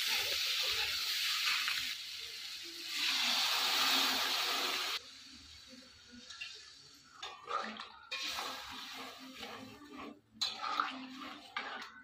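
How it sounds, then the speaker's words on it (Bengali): Water is poured into a pan of cooked-down vegetable curry, hissing and sizzling steadily for a few seconds before settling into quieter bubbling, with clinks and stirring sounds. "এবার আমি জল দিয়ে দিচ্ছি"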